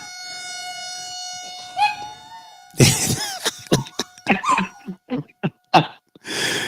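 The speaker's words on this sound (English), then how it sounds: "that is not liking the siren, which is right across the street at a school" A siren at a school across the street wails steadily in the background, then a dog barks and howls loudly nearby in a string of sharp bursts.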